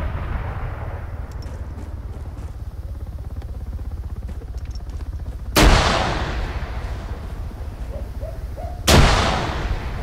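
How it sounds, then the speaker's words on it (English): Two loud, sudden grenade blasts in a first-person shooter game, arriving a few seconds apart over a constant low rumble of in-game background noise. "I'm gonna rock him with a bunch of grenades here."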